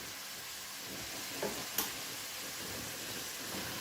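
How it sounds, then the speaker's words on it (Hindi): Potatoes frying in a pan for spinach and potato sabzi, a quiet steady sizzle close by with a couple of soft clicks of a utensil against the pan. "तो चले इनको फ्राई करते हैं अच्छे से"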